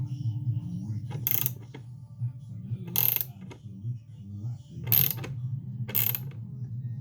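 Two-stroke engine cases being split with a splitter tool as the crank is wound out, giving a low mechanical grinding hum broken by four sharp, bright metallic clicks or creaks at irregular intervals, close up.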